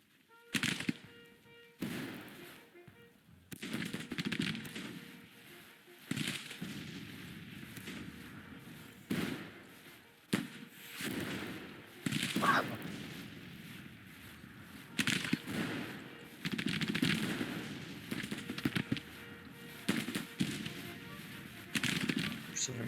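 Artillery and gunfire in the Grand Tactician Civil War strategy game: a steady run of booming cannon reports and crackling shots, some close and loud, others distant, recurring irregularly through the whole stretch with no talk.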